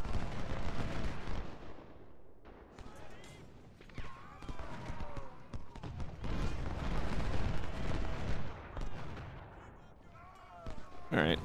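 Artillery fire rumbles across a Civil War battlefield in Ultimate General: Civil War, with repeated booms and crackling volleys rolling on over several seconds while someone talks over them.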